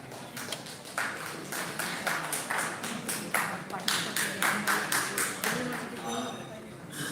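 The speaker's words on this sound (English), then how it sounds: "big round of applause for him" An audience at a live event gives a round of applause in uneven, rhythmic bursts of clapping, moderately loud, with voices talking over it.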